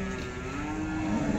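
A cow moos in a long low drawn-out call at a busy cattle market, fairly close over a noisy background.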